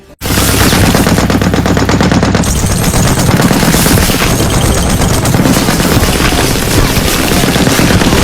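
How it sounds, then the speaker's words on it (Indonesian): Continuous loud machine gun fire in a war film about Panfilov's 28 men defending a trench against German troops, rapid dense bursts with booming impacts filling the whole stretch, no talking. "dengan senjata mesinnya berhasil menghabisi seluruh tentara yang mendekati parit tersebut"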